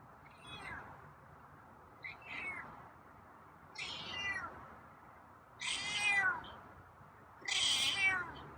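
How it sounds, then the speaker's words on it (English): A feral cat meows five times with pauses between, each call louder than the last, the final ones long and insistent, close by with no talking. "Getting those meows out."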